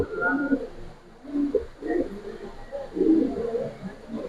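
Gribaz silver racer pigeons coo in soft, low bursts at close range, several throaty calls rising and fading under occasional nearby talk at a pigeon sale.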